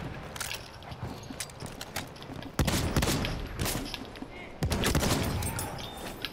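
Rapid gunfire in a multiplayer shooter game, sharp cracks in quick bursts with heavier volleys near the three- and five-second marks, fairly close and loud.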